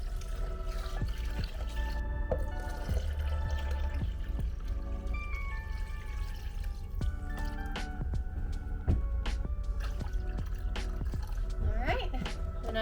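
Water trickles and drips into a container while mixing Repashy Cherry Bomb gecko food, with small splashes, taps and squishy handling noises scattered across several seconds and light background noise.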